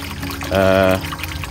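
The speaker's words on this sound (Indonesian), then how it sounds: "Saya memakai pompa 200 watt itu, ini keluar kencang" Water gushes strongly from a 200-watt pump into a tilapia fish-farming circulation setup, a continuous splashing rush with a brief louder humming swell in the middle.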